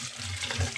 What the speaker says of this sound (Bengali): কিছুক্ষণ ভিজিয়ে রাখবো, তারপর ভালো করে ধুয়ে উঠিয়ে নেব।